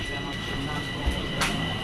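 Inside a moving metro train there is a continuous low rumble and hum with a few brief clunks, and a voice talks over it.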